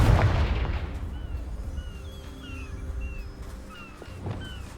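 A Confringo blast spell goes off in Hogwarts Legacy with a heavy, close boom at the start, then a rumbling tail that fades under faint chirpy ambient tones, with a softer thump near the end.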